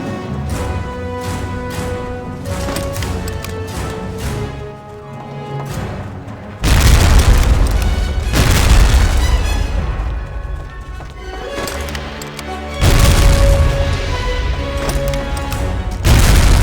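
In the video game Medal of Honor: Rising Sun, a grenade explosion lands as a sudden, loud, deep boom over an ongoing orchestral score, followed later by a second similar heavy blast.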